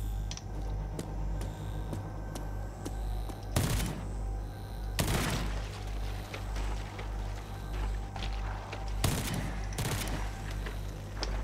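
Weapons firing in the video game RAGE 2, several sharp isolated shots spaced seconds apart over a low steady hum and faint ticking game ambience, with no talk.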